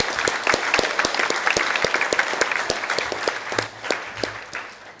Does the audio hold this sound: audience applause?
yes